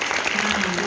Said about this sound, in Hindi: एक बार जोरदार ताली बजा दें हम अपनी मुक्ता बहन के लिए।